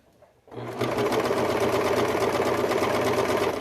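A Brother 35 serger runs steadily from about half a second in, stitching and trimming fabric with its cutting knife engaged at a very short stitch length, giving a loud, close, even mechanical whirr with a fast rhythmic chatter.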